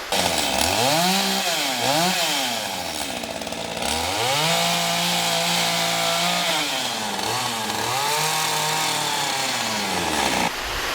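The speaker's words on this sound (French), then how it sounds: "une bête tronçonneuse d'abattage" A felling chainsaw carving a wood sculpture, engine loud and close, revving up and down repeatedly as it cuts, continuous throughout.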